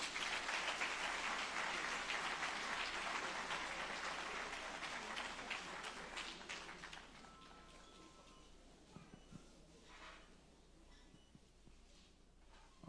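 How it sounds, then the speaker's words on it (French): An audience at a national tax civic-duty day ceremony claps loudly for about seven seconds, then the applause thins out and fades, leaving a quiet room with a few faint stray sounds. "Vos applaudissements, s'il vous plaît."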